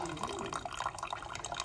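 Water is poured into the reservoir of a Cuisinart coffee maker, a close, steady splashing trickle.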